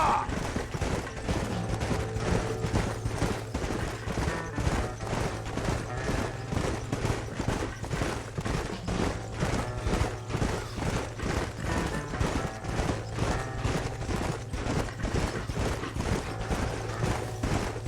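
Horse hooves in the Red Dead Redemption video game, a steady galloping clatter that runs evenly throughout, mixed with creaking tack and the game's background sound.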